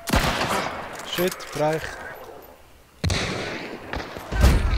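Gunfire in the video game Hunt: Showdown, loud broadband shots bursting at the start and again around the three-second mark, with voices talking in between.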